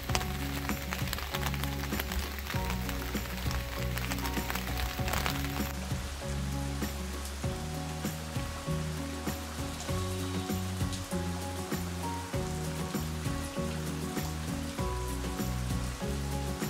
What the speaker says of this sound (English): We're so intrepid, it's raining.